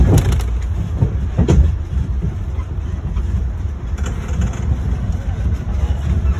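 A tourist train rolls through the González Byass sherry bodega cellars, a steady low rumble with wind buffeting and occasional clanks, while a guide talks over it.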